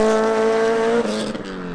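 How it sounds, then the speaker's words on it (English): An Acura RSX fitted with a Skunk2 Mega Power exhaust and turbo kit, a loud buzzing rev held steady, then dropping and fluttering as the throttle is released. "we're going to be going with the Skunk 2 Mega Power exhaust system, and I think you'll agree that it sounds pretty amazing"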